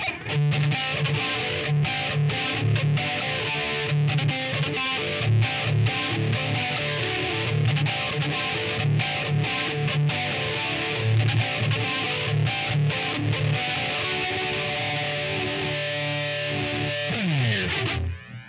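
Overdriven electric guitar riff through a Line 6 POD HD500x with a whooshing flanger sweep, played steadily and loud in an 80s style, then cutting off at the end.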